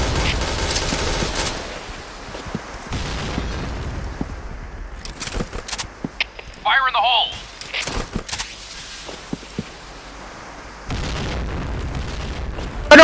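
Grenade blasts and gunfire booms in a shooter video game, rumbling under continuous chatter from players talking over each other, with scattered sharp bangs throughout.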